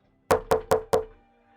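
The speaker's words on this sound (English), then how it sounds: "I'll make the knocking noise for you." Four sharp knocks on a door in an even, quick rhythm, close and fairly loud, alone, each with a short hollow ring.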